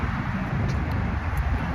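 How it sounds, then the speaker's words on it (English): Heavy highway traffic heard from the roadside, a loud, continuous roar and rumble of passing vehicles mixed with wind buffeting the microphone, no break in the noise and no talk. "I'm on the side of the road next to this highway."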